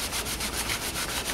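Cloth rubbed briskly over a turned wooden root lamp, a close, steady brushing friction with quick repeated back-and-forth strokes.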